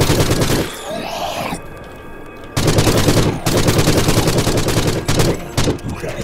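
In the Forgive Me Father video game, a gun fires in rapid, dense bursts, loud and close. A brief lull breaks the shooting before sustained fire resumes.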